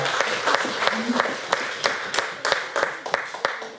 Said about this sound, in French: Acclamons un peu parce que je vois que vous êtes vraiment très fort